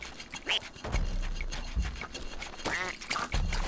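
Cartoonish duck quacks from the video game Rayman Legends, several short nasal honks scattered over a few seconds, loud and close, with faint game sounds in between.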